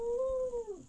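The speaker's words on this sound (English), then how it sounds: "Oh, we have very happy dogs." A dog's drawn-out howl or yelp from the Villagers & Heroes video game, a single steady tonal cry that falls in pitch at the end, clear and close with no talk over it.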